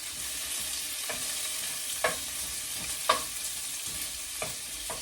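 Bacon frying in a pan, a steady close sizzle with a few sharp pops and stirring clicks, no talking.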